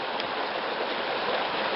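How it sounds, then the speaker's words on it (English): A creek flows beside a hiking trail in the Lost Creek Wilderness, a steady, close rushing of running water that fills the whole moment with no other sounds. "The entire first hour has been nothing but hiking alongside a creek, so there's plenty of water to be had."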